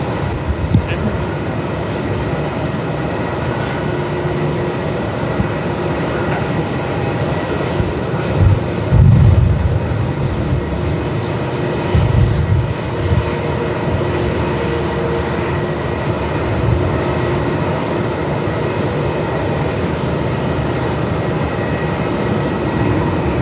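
A Boeing 737 jet roars steadily at Melbourne Airport in strong wind, a loud sustained engine rumble with gusty surges throughout.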